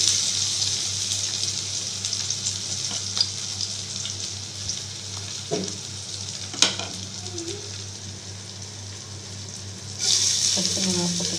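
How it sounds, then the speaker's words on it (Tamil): Green chili, ginger and curry leaves sizzle lightly in hot oil while a medu vada mix is being made. A steady hiss carries a few soft stirring clinks and swells louder near the end. "இதை லைட்டாக வறுத்துக்கிறேன்."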